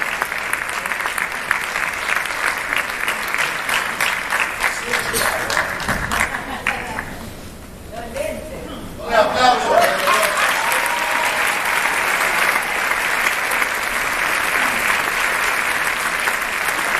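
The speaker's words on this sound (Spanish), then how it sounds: "Un aplauso." Audience applause fills a theatre, dense and loud, and dips briefly in the middle while a voice speaks, then swells back to full, steady clapping.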